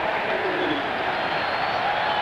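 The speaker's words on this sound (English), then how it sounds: "Keith Jackson trying to urge the crowd, and they responded to him" A Philadelphia Eagles football crowd roars in a stadium during a 1991 game against the Redskins, a dense, steady wall of distant cheering with no pauses.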